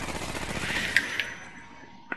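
Video game gunfire aimed at the player: a few distant, sharp shots pop over a steady hiss of background noise, spaced apart rather than in a continuous burst.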